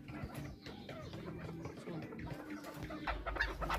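Young chukar partridge chicks cluck and peep softly in an aviary enclosure, with scattered short calls over low background noise.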